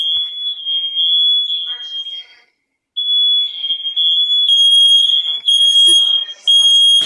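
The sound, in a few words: Nest Protect smoke alarm sounding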